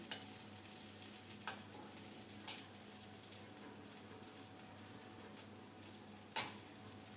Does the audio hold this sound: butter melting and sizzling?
yes